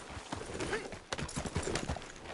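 Horse hooves clip-clop in an uneven trot in the video game Red Dead Redemption 2, mixed with faint ambient game sounds and brief voices.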